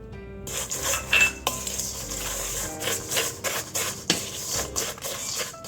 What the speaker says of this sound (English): now I'm just going to stir through my melted butter